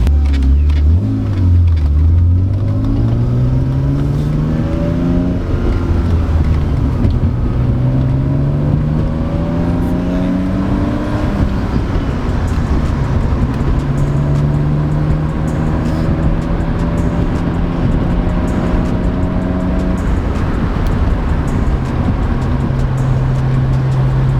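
A BMW E36 with failing O2 sensors and a check engine light drives steadily, its engine humming continuously and loud, rising and settling through gears with no talk over it.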